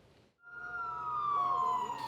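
A fire truck siren sounds during a fire rescue drill at a building in Anping District, Tainan. It swells in quickly and then sweeps slowly downward in a single loud, close wail.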